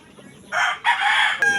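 A backyard chicken crows loudly and close, a short broken call made of a few strained bursts after a quiet start.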